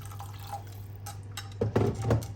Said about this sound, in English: And I'm going to add cold water.